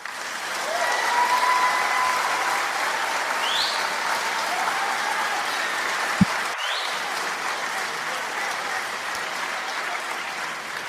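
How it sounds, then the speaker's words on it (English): A steady, sustained round of applause, like a broad crowd clapping continuously for about ten seconds at even loudness, with a single sharp knock partway through. "let me get you a nice round of applause."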